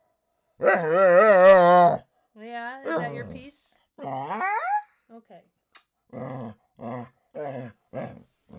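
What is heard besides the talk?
dog barking and growling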